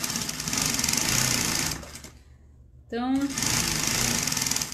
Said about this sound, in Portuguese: Só uma costurinha de segurança unindo o forro com o tecido principal.